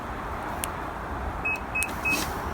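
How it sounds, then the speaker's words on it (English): Three short, clear electronic beeps at a steady pace over a low background hum, with a faint whirring of a 2019 Nissan Qashqai's power liftgate closing. "there's 3 more beeps and the hatch closes"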